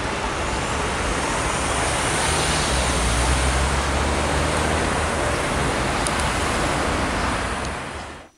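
Parallel through traffic at a signalized intersection surges forward on the green, a steady, loud broadband roar of passing vehicles with a low engine rumble that holds throughout and cuts off at the very end, with no talking.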